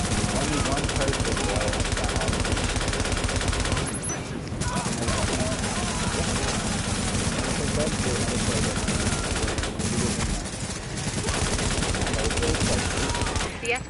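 Heavy gunfire in a console shooter, dense sustained machine-gun bursts and rattling shots filling the scene almost without pause, loud and close, with brief lulls and voices talking underneath.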